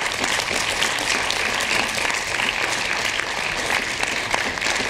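A full audience claps after a piano recital, a dense, even round of applause that holds steady from start to finish with no voices over it.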